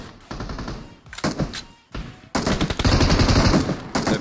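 Gunfire in PUBG Mobile, a video game: a few short bursts of shots, then loud continuous rapid fire over the last two seconds, close and dense.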